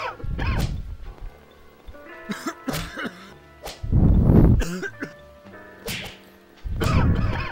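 Coughs triggered by a cough button in a video game mod come as several harsh, throaty bursts spaced a second or two apart, loud and close, with quieter thuds and clicks between them.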